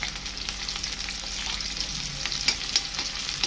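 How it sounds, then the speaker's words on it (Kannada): Chopped onions sizzle in hot oil seasoned with cumin and mustard seeds, a steady close frying hiss with sharp crackles and pops scattered throughout. "ಜೀರಿಗೆ ಸಾಸಿವೆ ಹಾಕ್ತೀನಿ. ಈಗ ಉಳ್ಳಾಗಡ್ಡಿ ಹಾಕತ್ತೀನಿ ನೋಡ್ರಿ."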